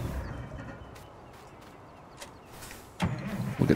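A truck engine idles and revs in Farming Simulator 19, a low steady rumble that surges louder near the end, with a few clunks and knocks over it.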